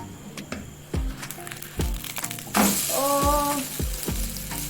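Oats omelette sizzling in a pan as it is flipped, with a series of woody knocks and scrapes from the spatula, then a louder burst of frying after the turn.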